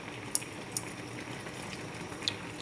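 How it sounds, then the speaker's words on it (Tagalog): Barbecue sauce boils in a frying pan with a steady, soft bubbling and small intermittent pops and crackles, close and fairly quiet, with no talk. "Kumukulo na siya."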